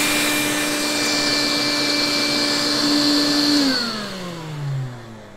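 A vacuum cleaner with a shortened flexible hose runs steadily in a sewing room, a loud, close, continuous whine that drops in pitch and winds down as the motor is switched off near the end.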